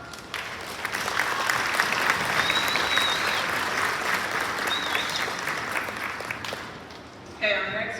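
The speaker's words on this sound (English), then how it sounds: "Give this group a round of applause." Crowd applause for a student group at a school awards day ceremony, swelling into steady dense clapping with a few whoops, tapering off before a voice starts speaking at the end.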